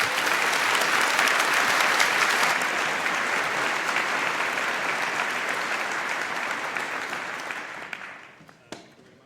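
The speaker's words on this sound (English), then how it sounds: "So give a round of applause to Matthias." Dense audience applause for a speaker at the 38C3 conference talk, loud and sustained, then thinning out and fading with a few last claps.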